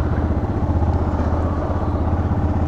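A Yamaha XT660 motorcycle's single-cylinder engine runs steadily close by, with a loud, continuous low throbbing rumble and a slight mechanical clatter. No one speaks over it.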